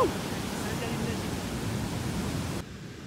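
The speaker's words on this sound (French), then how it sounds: "t'as vu les vagues de fou?" Large surf waves breaking on a beach in northern Colombia, a continuous broad roar of crashing water that holds steady, then drops slightly quieter near the end.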